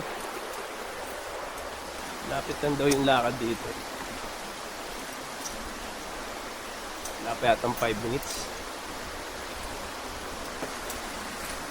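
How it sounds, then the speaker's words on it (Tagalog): Water flowing steadily in a clear stream near Balagbag Falls in Real, Quezon, a constant rushing hiss throughout, with people talking briefly over it twice. "Nakaka-relax yung tunog ng agos ng tubig"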